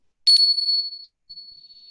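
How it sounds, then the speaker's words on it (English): A small handheld chime rung once, giving a clear bright metallic ding that rings on and fades, then sounds again softly, alone in an otherwise silent room. "Another thing that I like to work with sometimes for bringing them in and out is just the simple chimes."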